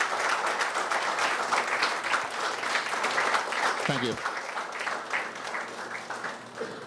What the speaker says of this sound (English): let us give them a hearty round of applause for continuing to make us proud